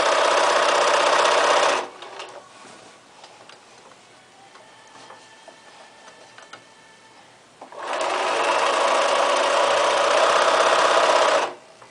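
A sewing machine stitching elastic into the waistline casing of pants, two loud steady whirring runs of stitching separated by a quieter pause with faint clicks and handling, heard close.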